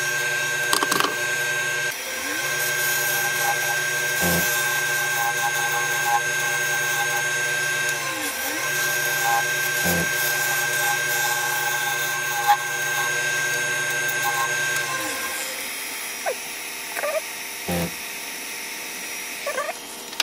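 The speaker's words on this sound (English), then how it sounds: "Bit of fine tuning with the skew there." Skew chisel cutting wood on a lathe while turning a trinket box, a steady high whine from the spinning lathe with a few short scraping cuts and pauses, fading out near the end.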